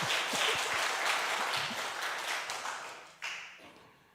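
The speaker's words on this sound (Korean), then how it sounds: "박수해 주세요" A church congregation applauding, a dense wash of many hands clapping in a large room that fades gradually, then a brief final burst before dying away.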